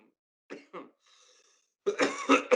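A couple of short coughs, then a faint breathy pause and a burst of harsher, louder coughing up close.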